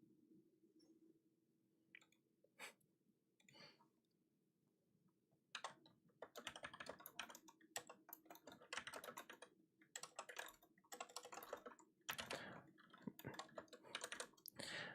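Rapid clicking of keys while typing on a computer keyboard and keypad, sparse and quiet at first, then a dense, busy burst of keystrokes over a low steady hum.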